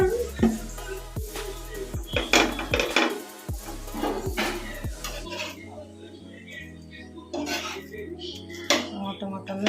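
Metal pan clatters and scrapes as a pancake is flipped, followed by a lid set over the pan, with several sharp knocks and clinks close by and faint talk in between.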